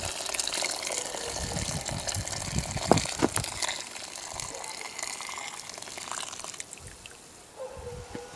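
Meat broth pours and gushes out as it is drained from a pot of smoked-meat soup, a steady liquid splashing that tapers off near the end.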